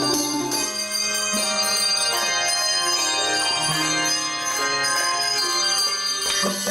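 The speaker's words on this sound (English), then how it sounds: "you just do a quick flick of a wrist, and it'll ring" Several handbells ring in turn, each rung with a quick flick of the wrist, their clear sustained tones overlapping and decaying with no talking.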